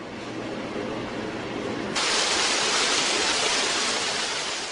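Steady rushing spray of an artificial indoor waterfall at a hospital, a continuous broadband hiss that grows brighter and louder partway through with no voices.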